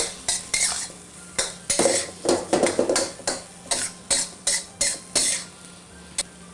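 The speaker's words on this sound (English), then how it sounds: "we'll go ahead and add the Kikkoman sweet soy sauce for rice. And we'll give it a stir fry." Pork fried rice with sweet soy sauce stir-fried in a pan, a close run of quick metallic scrapes and clacks from a utensil against the pan, rhythmic and uneven, with a faint sizzle underneath and no talk.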